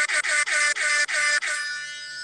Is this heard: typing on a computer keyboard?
no